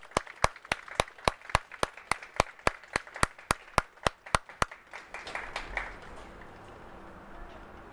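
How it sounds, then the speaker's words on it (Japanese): Audience clapping for the winning American football team, the Lead Effort Eagles, after a game against the Seoul Vikings: about sixteen sharp, evenly spaced claps, then fading into a soft diffuse patter with no talk. "リードエフォートエールズに今一度大きな拍手をお願いいたします"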